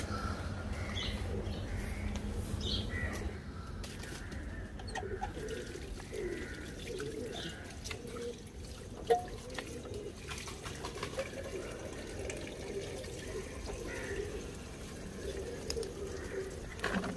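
Six litres of water poured into a pot for mixing pigeon vitamins, a steady running, faucet-like wash of liquid that continues throughout at moderate loudness, with faint bird cooing in the background.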